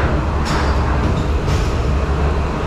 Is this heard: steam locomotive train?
yes